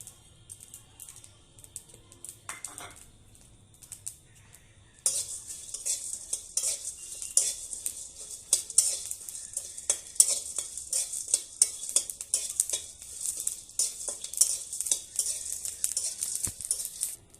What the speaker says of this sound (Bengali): মশলাটা ভাজা হয়ে গেছে এবার আমি ঢেলে নেব